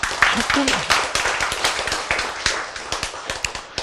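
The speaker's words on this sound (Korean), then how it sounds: "아, 박수 칠만 하지 않아요?" An audience at a Korean Bible lecture on the 2300 days breaks into scattered clapping, a steady run of sharp nearby hand claps lasting several seconds, with brief voices murmuring under it.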